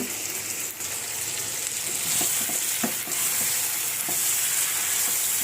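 Tomato curry being stir-fried in a pan, a steady bright sizzle running throughout with a few faint scrapes and knocks of the spoon, moderately quiet and without voices.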